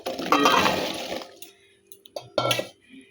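Taro leaves pushed into a pot of water for boiling: a close burst of splashing and sloshing, then a few short wet squelches and clinks with quiet gaps between.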